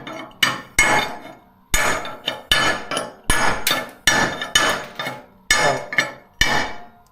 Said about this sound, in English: just a cold chisel, give it a little whack, and it flies right off